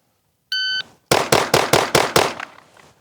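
A shot timer gives one sharp electronic beep, then a pistol fires six rapid, evenly spaced shots at close range on an outdoor range at about 7 yards, each crack loud and ringing briefly.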